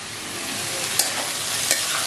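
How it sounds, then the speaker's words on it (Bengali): Potatoes frying in oil in a pan give a steady close sizzle, with a couple of brief clinks of a spatula against the pan and no voices. "একটু ভেজে নেব, যেন আলুটা এই ভাজাতেই যেন আলুটা সেদ্ধ হয়ে যায়।"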